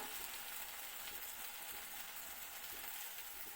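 Spice paste with turmeric fries in a pan for a Bengali mustard and jute leaf dish, a faint, steady hiss of sizzling with soft scraping, no voices.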